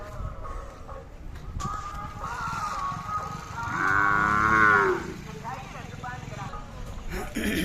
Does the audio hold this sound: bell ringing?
no